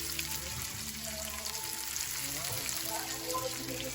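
Shellfish being sautéed in a pan, a moderate steady sizzle with light watery crackling under background tones, with what seems like faint talk.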